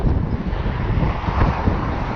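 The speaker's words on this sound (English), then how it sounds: "Hopefully you can hear me because it's quite windy." Strong outdoor wind buffets the microphone in a loud, continuous low rumble with gusty fluctuations, heard alone without any talking.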